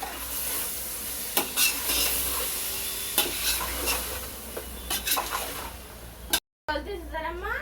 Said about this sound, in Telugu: ఇప్పుడు వేసుకున్నాం కదండి, శుభ్రంగా కలుపుకుందామండి